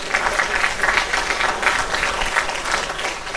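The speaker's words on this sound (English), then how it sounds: "can we please have a round of applause for Curtis, our workshop presenter?" Sustained audience applause at a conference workshop session, a steady dense wash of clapping filling the room throughout without pause.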